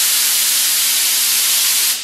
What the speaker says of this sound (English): we're going to try spraying about 18-19 pounds for this adhesion promoter